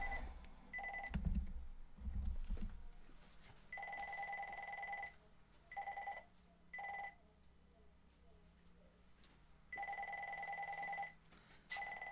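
A telephone ringing with an advertising call, sounding in repeated electronic bursts of a two-tone ring separated by short pauses, with some quiet thumps and background noise between the rings.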